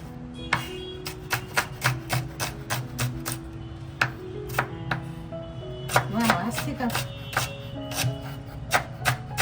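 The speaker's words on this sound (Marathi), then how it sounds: "तर आपण कांदा कापून घेऊया." Knife finely chopping onion on a board: a steady run of sharp, close taps in a quick, fairly even rhythm, with a voice talking faintly underneath.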